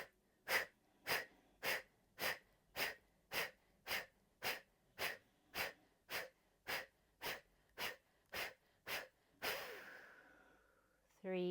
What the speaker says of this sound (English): we'll start with a deep inhale